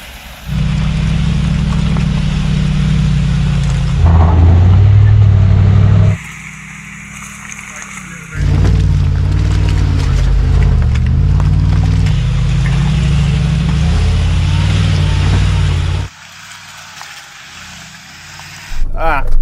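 A new Mercedes-AMG G63 drives off-road, its engine holding long steady stretches of loud low drone with throttle changes between them, while voices talk over it.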